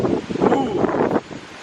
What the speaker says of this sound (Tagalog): Naghagunos na ang hangin.